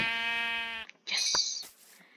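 Sheep bleating in the video game Minecraft, one long wavering bleat followed by a shorter, higher bleat, faint and alone.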